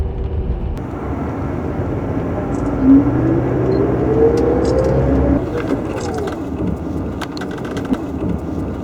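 A car drives through downtown Los Angeles, its steady engine and road rumble heard from inside at an even level, with a low drone rising partway through and faint clicks near the end.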